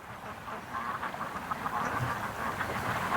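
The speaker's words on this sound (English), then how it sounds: "ducks are all over the lake, guys" Ducks quack across a lake, a dense scattered chorus of overlapping calls spread through the whole stretch at moderate distance, steady and unbroken with no speech.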